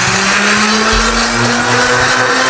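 An electric blender grinds eggs for a chocolate sponge cake, a steady loud whir with a low motor hum that dips and surges slightly partway through, running alone without voices.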